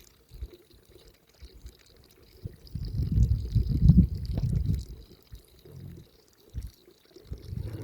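A dog laps water from a bowl in a quiet setting, a soft, wet, rhythmic lapping that swells in the middle and returns briefly near the end.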